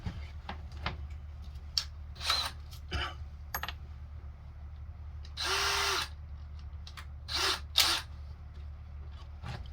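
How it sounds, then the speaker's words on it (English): A power drill with a countersink bit countersinks holes in kydex in a few short whirring bursts, the longest steady for about a second, with clicks and handling noises between runs. "I find it a lot easier and quicker to do it with a power drill"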